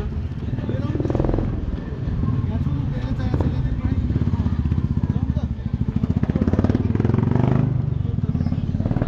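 A motorcycle engine revs on a school ground, its pulsing throttle bursts rising and falling and growing louder toward the end, with people chattering over the engine noise.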